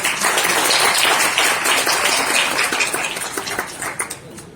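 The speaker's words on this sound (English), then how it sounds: "please join me in giving a big round of applause for the speakers" Applause from a forum audience for the speakers at a city-planning event in New Delhi, a dense burst of many hands clapping that holds steady, then thins and fades toward the end.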